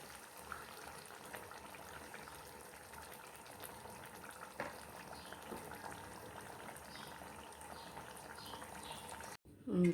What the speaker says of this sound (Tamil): பத்து நிமிஷம் கொதியிலே அப்படியே நல்லா வெந்துடும்